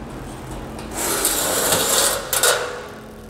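Light gauge steel frame wall panels for a backyard studio being sanded along the walls and corners in a shop, a steady abrasive rasping grind that swells and continues for a couple of seconds, fairly close.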